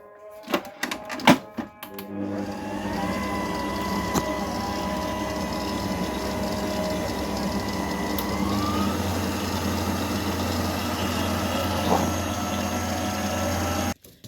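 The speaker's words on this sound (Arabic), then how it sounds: "هنضربه ضربه بالعجان" A dough mixer beats a cream mixture for a no-glucose-syrup ashta cream dessert, running as a steady continuous mechanical whir with a few clatters and clicks at the start and a click as it stops.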